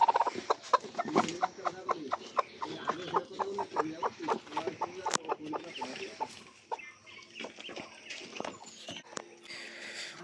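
A hen clucks in a quick run of short, repeated calls nearby, which thin out and grow quieter toward the end.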